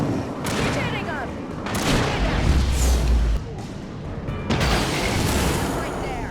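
Dense, sustained gunfire and booming blasts from the video game Alan Wake, continuous and loud throughout with a few brief dips, while voices shout over the barrage.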